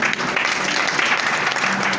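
Audience applause at a slam poetry night, a steady dense clatter of many hands clapping for a couple of seconds, fairly loud and with no voices over it.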